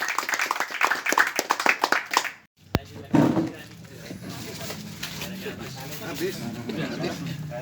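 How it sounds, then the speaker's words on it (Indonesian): Clapping from the audience at a neighborhood association chair candidate debate: a burst of scattered hand claps that stops abruptly, followed by crowd chatter and talk. "Oke, tepuk tangan semuanya."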